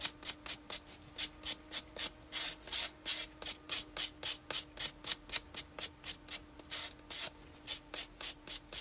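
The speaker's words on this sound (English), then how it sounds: "Now I'm gonna buff it." Builder gel nails are buffed with a nail buffer, giving quick, even rubbing strokes, about three per second, close and soft with a dry scratchy texture.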